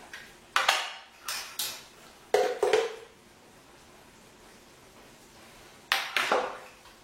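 A fork or whisk beats ingredients in a bowl for meat-filled beignets, clinking in three short bursts of quick, bright taps, with a long quiet gap before the last burst.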